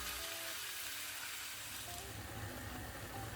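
Quiet, steady sizzle of chopped onion and minced chicken breast frying in a pan, a soft continuous hiss with faint crackles throughout and no talking.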